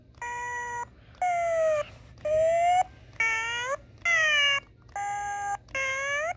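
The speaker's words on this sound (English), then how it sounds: "it's just doing the jibber jabber thing" Singamajigs singing toy in jibber jabber mode, chirping a string of about seven short electronic warbling syllables in an even, steady rhythm, close and clear, with no talk over it.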